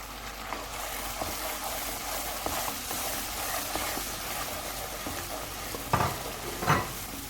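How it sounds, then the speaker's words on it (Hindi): Whole spices fry in a pan for achari bhindi, a moderate continuous sizzle with occasional stirring scrapes and a couple of louder clinks near the end, no talking. "अब मैं तकरीबन इसको 2 मिनट तक पकाऊंगी"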